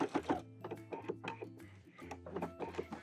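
Sewing machine edge stitching an apron, a close rapid mechanical chatter running in bursts with short pauses between runs of stitches.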